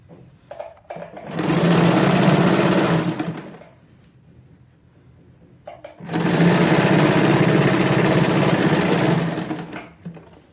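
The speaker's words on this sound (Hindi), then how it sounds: "और ये स्टिच को जहां तक हमारी पॉकेट है नीचे तक पूरा ऊपर लेकर आएंगे।" Sewing machine stitching a hidden pocket into palazzo pants, two sustained runs of fast, steady mechanical whirring, close and loud, separated by a quiet pause with faint handling noise.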